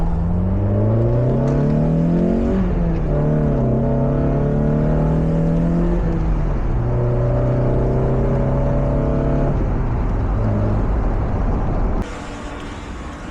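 A first-generation NA Mazda Miata engine runs loud and close, revving up and down through several smooth rising and falling sweeps before settling to idle, with no talk.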